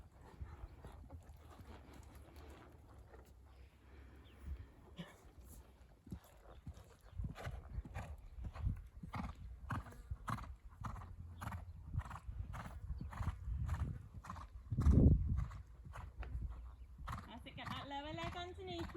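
A horse canters around a showjumping arena, its hoofbeats thudding in a steady rolling rhythm up close, with one louder impact midway and occasional snorts, while a coach's voice speaks over it.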